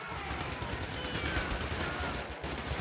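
Sustained automatic gunfire rattles loudly and continuously from a military defense video game as infantry squads fight, with dense rapid shots and no pause.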